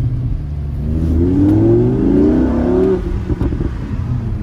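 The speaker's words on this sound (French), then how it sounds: "tu vas te mettre évidemment en échappement sport, qu'on puisse vraiment écouter" A Lamborghini Huracán engine in sport exhaust mode revs up, a deep rising growl that climbs in pitch for a couple of seconds, then settles back, loud and close.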